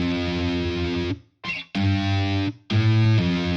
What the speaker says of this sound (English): give it that distortion, that fuzz, make it sound like a real like electric guitar